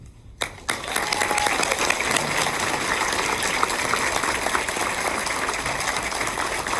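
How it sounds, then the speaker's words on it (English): Sustained, dense audience applause fills the room after a keynote speech at an annual event, rising sharply after a brief pause and holding steady and loud throughout. "Big round of applause for what you do."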